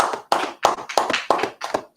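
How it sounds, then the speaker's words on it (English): An audience at a Sabbath service claps in a loud, rhythmic pattern, about six sharp bursts of hands striking together in a steady beat, close and with no talk. "Clap it up for that."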